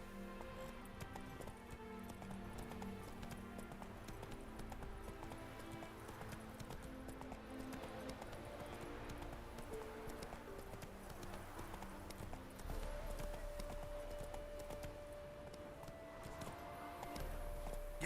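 Horse hooves trot steadily in The Witcher 3: Wild Hunt, a continuous rhythmic clip-clop at moderate level over quiet game ambience, with a brief whinny-like tone late on.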